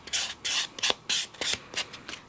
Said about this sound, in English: And then we take a buffing block, not a fine buffing block, but just enough so you can take the shine off your nail.